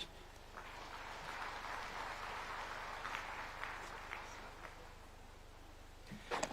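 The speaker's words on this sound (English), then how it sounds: "Another round of applause for Cabinet Secretary Alice Wahome." Faint, distant applause from a crowd at the Africa Urban Forum, KICC, Nairobi, a continuous patter of clapping that holds steady and then tapers off.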